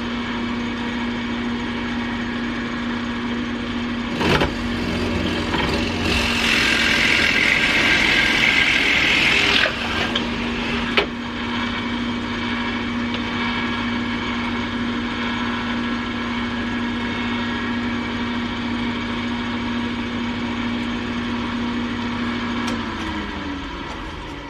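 A power tool drives a Forstner bit into wood with a steady motor drone and whine that runs for the whole stretch. A rougher, louder cutting burst comes partway through, then the hum winds down at the end.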